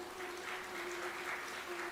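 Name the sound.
a man clapping his hands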